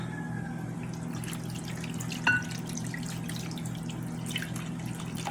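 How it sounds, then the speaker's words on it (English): Two cups of water pour into a pot while cow heel souse is seasoned in a home kitchen, a faint, steady trickle over a low background hum, with one brief clink partway through. "So I'm going to start with 2 cups of water."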